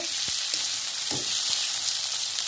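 Tomatoes frying in oil for an egg curry, a bright steady sizzle close up, with a few soft knocks of a spoon stirring in the pan.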